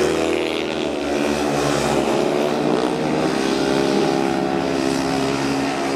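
500cc speedway motorcycles race around the Skave track in a Danish second-division meet, a loud sustained engine roar with shifting revs as bikes pass close by.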